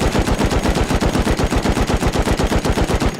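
An automatic gun fires in Rust as one steady, rapid, evenly spaced burst of loud close shots lasting about three seconds, alone and ending abruptly.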